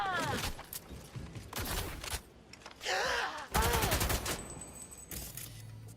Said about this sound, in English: I don't know when to stop shooting